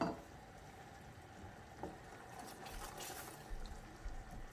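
Soft, steady bubbling and simmering of caramel in a saucepan, with faint clinks and stirring noises over a low background hiss.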